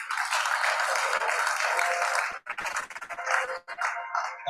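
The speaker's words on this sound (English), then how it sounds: "It's an applause for the University Curator." Sustained applause from a crowd, loud and steady, with a brief dip before the clapping picks up again and tapers.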